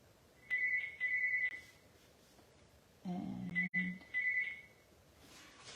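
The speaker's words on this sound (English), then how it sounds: "the phone is ringing" A telephone rings in two bursts of a repeating electronic trill, one early and one a few seconds later, heard in a quiet room while someone makes a birthday cocktails card; a low voice murmurs briefly between the rings.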